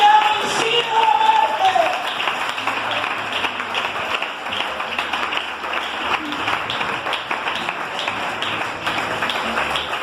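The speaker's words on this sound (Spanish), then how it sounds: "Eso es que está dando un aplauso a aquel que ha vencido la muerte." Church congregation applauding during a sermon on the lordship of Jesus, a dense, sustained wash of clapping at moderate distance filling the whole stretch, with faint voices and a brief tonal ping near the start.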